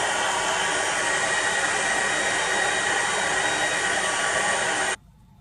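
A heat tool blows hot air over a handmade card decorated with glued beads, a loud, steady rushing roar held close for about five seconds before it cuts off abruptly.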